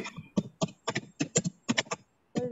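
Computer keyboard typing from someone on an online meeting call, a quick run of clicky keystrokes in irregular bursts with short pauses, fairly close and clear with no talk over it.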